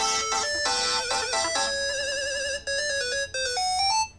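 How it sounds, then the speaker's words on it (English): Retro video game sound effects played in Logic Pro: bright chiptune-style bleeps and warbling tones in quick successive patterns, loud and clean with brief gaps near the end. "we have video game sounds on here"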